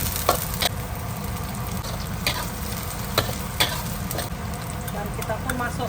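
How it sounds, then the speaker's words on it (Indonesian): Garlic and large onions fry in hot oil in a pan, a dense continuous sizzle broken by occasional sharp clicks of stirring, close and steady throughout. "Dan kita goreng bawang putihnya."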